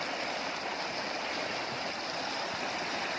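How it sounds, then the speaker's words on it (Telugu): Floodwater after heavy summer rain rushes into a banana field, giving a steady, dense broadband roar of flowing water that stays loud and even throughout with no voices. "మొత్తం అరటి చేనులోకి వెళ్తున్నాయి చూడండి నీళ్ళు అయితే వచ్చేసి."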